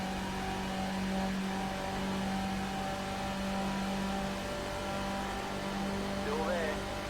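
Skip Barber race car engines hum and whine steadily at Le Mans in iRacing, with a close droning note and brief pitch sweeps as other cars pass, and talk running over the top.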